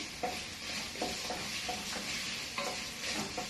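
Onions frying in a pan as a Fasooliyeh base, with a steady sizzle and repeated scraping stirs at a close, even level, no voices.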